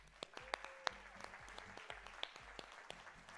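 Attendees at a Houston women's chamber of commerce mayoral forum clap for the committee co-chairs, a light, fairly faint patter of scattered hands with a few sharper individual claps standing out.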